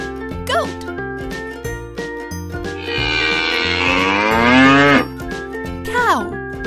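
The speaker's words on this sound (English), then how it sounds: "Cow." Cattle lowing in a toddlers' animal-words app: one long, loud cow moo rises and falls for about two seconds in the middle of the clip, set over steady background music with brief chimes before and after it.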